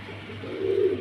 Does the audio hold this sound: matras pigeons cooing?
yes